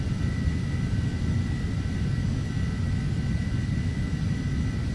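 A propeller airplane turning its prop in Flight Simulator X gives off a steady, loud engine drone with low rumble and a faint tonal whine that runs unbroken from start to finish.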